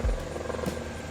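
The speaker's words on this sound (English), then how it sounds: "I got a helicopter hovering right over us." Low steady rotor drone of a helicopter hovering close overhead, a continuous rumble with faint periodic chop and no speech.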